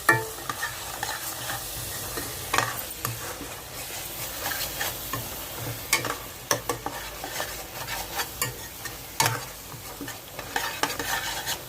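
Onion masala fries in a pan for an egg masala curry, a soft continuous sizzle punctuated by frequent scraping stirs and light spoon taps against the pan, close by and without speech.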